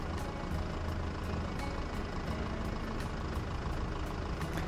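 Truck engine running in Farming Simulator, with the Hay & Forage Pack loaded: a steady, low, rumbling idle with a fast, even mechanical pulse throughout, and no talk.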